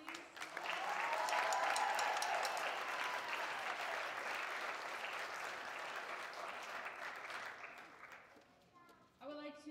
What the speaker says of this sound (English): applause for that song